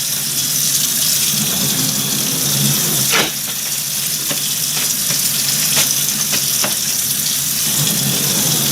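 Water runs from a sink tap during handwashing in a lab, a steady loud gushing hiss with a few light clicks and taps over it.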